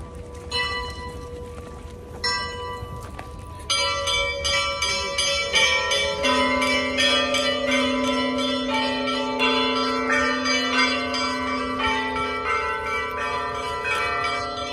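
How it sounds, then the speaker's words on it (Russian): Church bells in Athens, Greece ring out loud and close. A few scattered strikes come first, then a dense, overlapping peal of several bells keeps clanging steadily to the end. "Все ждали колокола."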